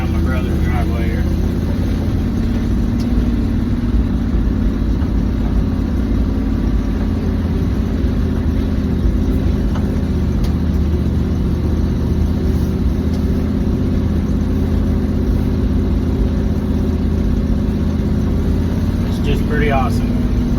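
A 1983 Chevy engine idles and runs steadily as the car rolls slowly around a driveway, a continuous low mid-pitched drone at close range with no clear revving.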